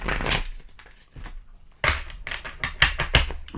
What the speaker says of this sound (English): I don't know if you can hear that rustling in the background. That's my dog eating.